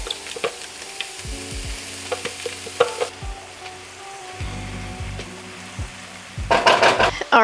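Mushrooms, carrots and celery sizzle and fry in a pan with peppers and onions, with steady crackling broken by several soft utensil knocks and stirring clatters, ending in a louder burst of sizzle.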